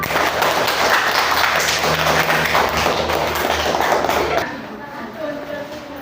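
Classroom applause for all student groups, a dense, loud patter of many hands clapping together for several seconds before it quickly dies away, with some voices mixed in.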